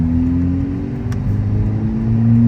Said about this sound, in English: and then go give it a little bit of gas.